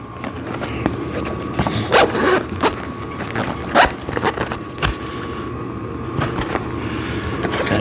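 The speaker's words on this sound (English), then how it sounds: "And then you want to zip this up." A zipper is pulled closed on the pad cover of a VEVOR sissy squat machine, giving a series of close, scratchy zipping bursts over a steady background hum.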